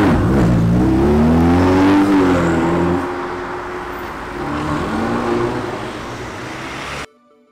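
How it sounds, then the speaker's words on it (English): Ferrari 488 Pista on a city street, a loud close engine roar that rises and falls with revs, then cuts off abruptly. "I bumped into this beautifully spec'd 488 Pista in Rosso Fiorano paint, with the gold stripe and matching gold wheels."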